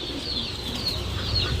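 Pigeons coo softly and rustle in a pet store, with a low, steady murmur of birds nearby and no voices.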